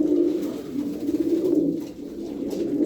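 Pigeons coo repeatedly in soft, low, rolling calls, close by, with several birds overlapping in a continuous murmur.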